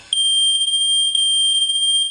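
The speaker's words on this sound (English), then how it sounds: "the photoelectric sounds the alarm" Photoelectric residential smoke detector sounding its alarm, a loud, piercing continuous high-pitched electronic tone starting abruptly and holding steady, close and alone.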